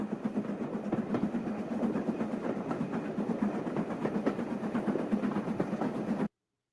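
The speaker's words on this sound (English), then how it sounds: "I'm assuming it's gonna sound like a railroad." A railroad train ambience effect: a continuous rumbling roll with faint repeated clacks of wheels on rails, steady and fairly loud for about six seconds before cutting off abruptly, with no voices.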